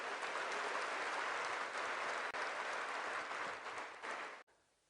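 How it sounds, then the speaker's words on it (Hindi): A spiritual festival audience gives a warm clapping welcome to a guru, a dense and even wash of many hands clapping together that holds steady before cutting off abruptly near the end. "जोरदार तालियों"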